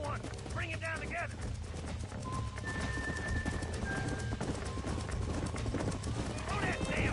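Horses gallop with quick clip-clop hoofbeats in the Western video game Red Dead Redemption, under voices calling out, with tonal game music and effects around them.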